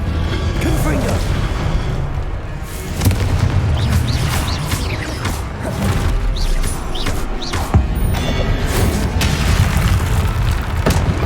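A Confringo fire spell explodes during a Hogwarts Legacy video game battle, with repeated booming blasts, crashes and pops amid busy combat effects, while a player talks over the action.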